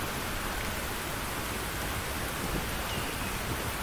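Torrential rain in the video game Tchia pours as an unbroken, broadband hiss, steady and close throughout with no talking over it.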